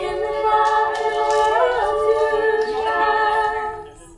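A group sings together at an outdoor family festival on Ekone Ranch, with blended voices holding sustained harmonised notes, steady and moderately close, with no talking over them.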